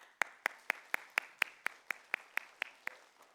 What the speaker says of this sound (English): So we believe that the first round of applause goes to them.